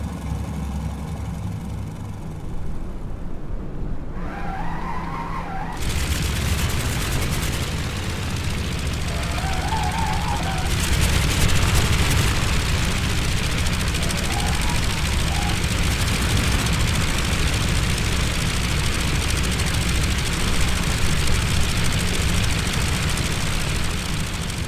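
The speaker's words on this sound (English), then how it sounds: "We'll just look at the start sequence again externally so that you can hear the engine startup sounds from outside." Fokker F VII engines starting up, heard from outside the aircraft in Microsoft Flight Simulator: a whine and a few sputters, then a steady, loud, low idling drone that grows fuller as more engines catch and keep running.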